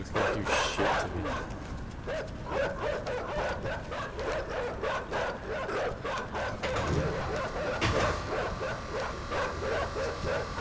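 Barking dogs in the game Inside, a busy chase of overlapping barks and yips that carries on steadily for the whole stretch, loud and near, without voices.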